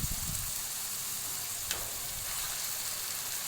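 Beef mince frying in a pan, a dense, even hiss of sizzling oil throughout with one brief scrape partway through, close and steady, with no voices.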